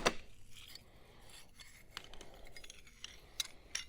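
Small SK wrench sockets clinking together as they are picked up and handled, a few sharp metallic chinks over light rubbing and shuffling, close by and fairly quiet.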